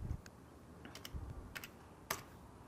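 Close computer keyboard typing as a CAPTCHA is entered on an online exam application form, heard as a brief burst of sharp, uneven key clicks with a louder keystroke near the end.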